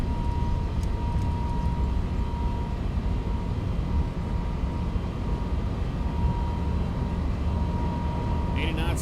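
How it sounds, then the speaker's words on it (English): Boeing 777F jet engines at takeoff power in the X-Plane 11 flight simulator, a steady, loud, unbroken roar with a faint thin tone running through it for the whole stretch. "Takeoff power is set."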